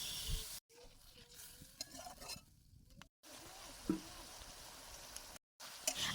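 Potatoes with chili powder and salt being stirred in a pan, a soft scraping and gentle sizzle with short pauses, fairly quiet and close.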